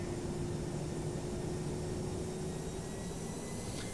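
Airbus A319 jet engines spooling up with the throttle at 40% in the X-Plane 11 flight simulator, a steady broadband roar with a sustained low hum and faint whine, continuous and fairly loud throughout.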